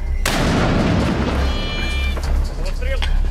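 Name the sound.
mortar firing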